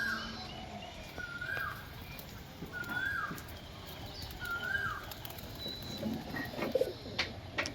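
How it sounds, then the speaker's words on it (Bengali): Pigeons coo in repeated low, soft phrases at a backyard loft of fancy flying pigeons, a few rolling calls spaced across the stretch with outdoor ambience and faint movement around them. "দেখুন পায়রা দেখুন।"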